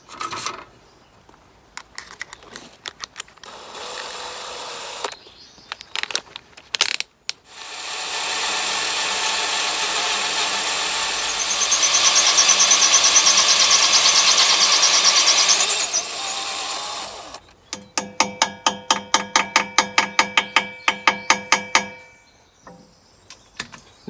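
A drill with a 1/4-inch bit boring out a broken bolt during LS tractor repair, using transmission fluid as lubricant: short bursts, then a long sustained whine that rises in pitch, followed by quick repeated pulses.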